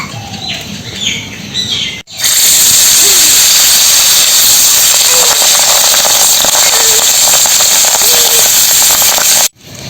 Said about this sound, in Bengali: এবার কড়াইয়ে সর্ষের তেল দেবো মাছটাকে ভেজে নেব